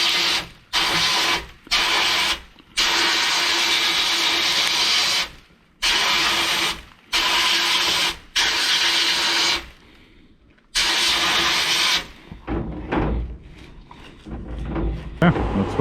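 Sandblasting of throttle parts from a Skyline VK45 V8, loud hissing blasts in short bursts separated by abrupt silences, followed by quieter rattling and handling noises as a voice talks.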